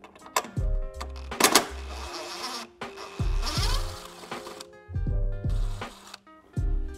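Ratchet wrench backing out a 10 mm bolt threaded into the rear lamp housing of a 2024 Cadillac Escalade, heard as close, quick rhythmic clicking bursts separated by brief pauses.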